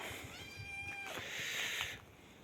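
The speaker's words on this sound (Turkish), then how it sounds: "Van kedisi bu Van." A Van cat lets out a single drawn-out meow that rises and then falls. It sounds close but fairly soft, with light background noise and no talking.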